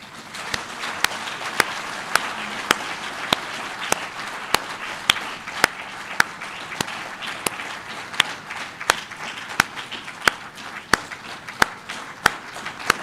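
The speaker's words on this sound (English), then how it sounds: "With a round of applause, ladies and gentlemen" Applause from a lecture audience welcoming Professor PLO Lumumba to speak on governance in Africa, a steady wash of clapping with a regular, prominent nearby clap cutting through every half second or so.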